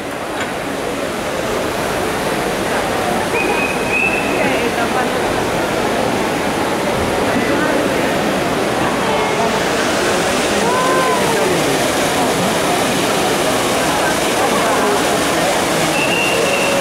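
Water fountains splash in a busy square in Rome, a broad continuous rushing wash with a crowd murmuring underneath and faint whistles cutting through.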